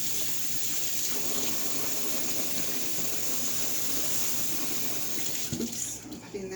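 Tap water runs steadily into a sink while cilantro and jalapenos are rinsed for canning salsa, a constant close splashing gush that shifts near the end.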